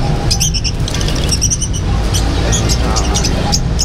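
Many small birds chirp and tweet busily in short bursts over a loud, constant background noise, crowded together in a pet shop in Manila.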